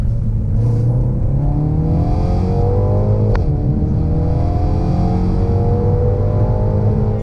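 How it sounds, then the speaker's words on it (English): A 2020 BMW X2 M35i accelerates hard in a 30 to 70 mph sprint, its engine note loud and climbing steadily through the revs, with a sharp gearshift break partway through before it pulls up again. "let's see what this Sports Activity Coupe can do on the 30 to 70 sprint"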